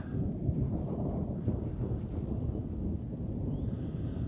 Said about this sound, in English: Oh, I can hear those thunder clouds though. They're making a lot of noise.